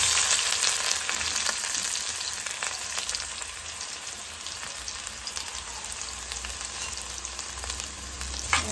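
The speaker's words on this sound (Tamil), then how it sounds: "சீரகம், வெந்தயம் ஆட் பண்ணிக்கலாம். இது கூடவே ஆனியன்." Onion frying in hot oil with cumin and fenugreek, a steady dense sizzle with faint crackles and occasional stirring, close and continuous, no voices.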